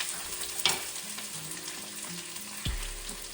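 Chopped onion, carrots, green pepper and habanero peppers frying in a pan, a soft steady sizzle with a couple of light clinks and stirring scrapes, quiet and close, no talking.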